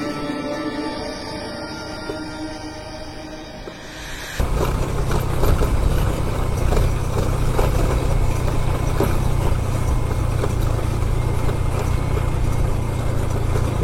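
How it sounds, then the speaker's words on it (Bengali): A motorbike engine runs steadily on a hill road in Rangamati, quiet at first and then surging louder and close for the rest, a constant low rumble with no talk. "একটু কেয়ারফুলি বাইকটা চালাইতে হবে"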